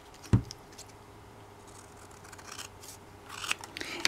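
Scissors trim paper with one sharp close snip at the start, then a quieter stretch followed by a few lighter cutting and rustling sounds near the end.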